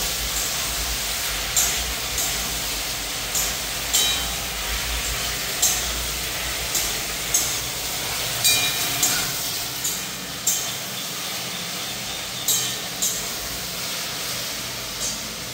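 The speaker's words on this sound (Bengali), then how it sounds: "লবণ আর হলুদ দিয়ে দিয়েছি, এখন ঢেঁড়সটাকে একটু কষিয়ে দিই।" Okra sautéing in a pan with salt and turmeric sends up a constant, fairly soft hiss, with regular light scrapes or taps of stirring about every second and no voices.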